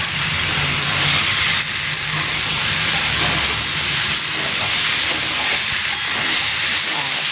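A paste of chilli, cumin and coriander fries in a pan for potato curry, giving a steady loud sizzling hiss throughout with no break.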